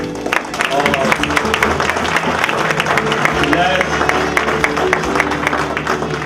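A youth church gathering claps and cheers in a lively mixed wash of applause, voices and music, fairly loud and continuous.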